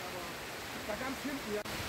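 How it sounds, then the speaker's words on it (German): A sudden rain shower in Panama hisses as a steady broadband wash, with faint voices briefly audible beneath it. "Und ganz plötzlich überrascht uns ein Regen."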